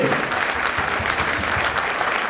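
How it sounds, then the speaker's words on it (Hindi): A crowd at a motivational seminar claps steadily and loudly throughout, a dense, sustained round of applause with no pauses. "वाह जबरदस्त तालियां इन और न्यू गेस्ट के लिए।"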